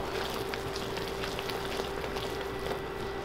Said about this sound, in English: add in the baking soda and stir. See? It will bubble up.